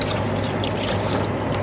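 Water pours into a cooking pot of dissolved seasoning for Mexican rice, a steady close splashing and trickling that runs without a break.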